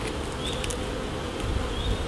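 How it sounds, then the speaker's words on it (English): Honey bees buzz densely around an open hive during an inspection, a close, continuous hum with individual insects droning past. "You've got to be careful with the bees when you're doing this"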